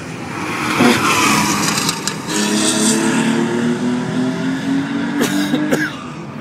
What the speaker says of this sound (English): Followed by the Porsche 911 vehicle of Rob Slater and Richard Harbron.